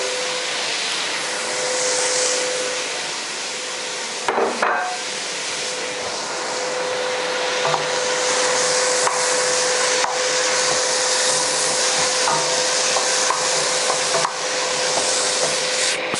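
Tomatoes are stirred into a spiced madras-style curry sauce in a pan, giving a steady sizzling hiss with scraping and rubbing from the spoon and one brief louder clatter partway through.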